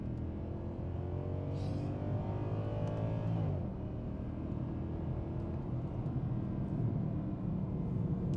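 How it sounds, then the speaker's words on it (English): A Mercedes-Benz C 63 AMG W204 V8 engine revs up with a rising harmonic sweep, climbing over about three seconds, then drops back to a steady low rumble. "Let's try to rev it out all the way."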